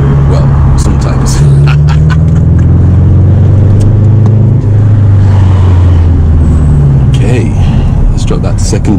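A 6-speed manual BMW 1 Series E82 pulls up through the gears, its loud in-cabin engine drone rising in pitch, dropping at a mid-clip gear change, then climbing again, with people talking over it.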